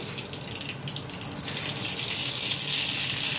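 Mustard seeds splutter and crackle in hot oil in a pan, a close, dense hissing sputter that grows louder and busier partway through.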